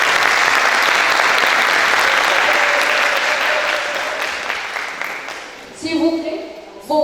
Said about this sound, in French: S'il vous plaît, vos forts applaudissements à Monsieur Jihad